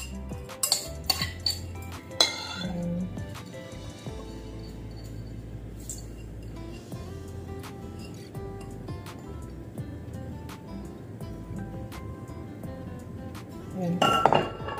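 Rice being mixed in a bowl as filling for stuffed zucchini and vine leaves, with clinks of utensil against dish scattered at the start and again near the end, under a steady background of low rumble.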